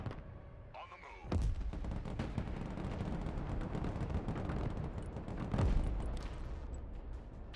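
Gunfire and artillery in the Broken Arrow war game: dense, continuous crackling fire with heavy thumping blasts near the start and again later, loud and sustained, no speech.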